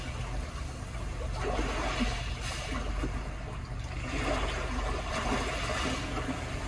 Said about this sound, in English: Next, you have Calm Sea Waves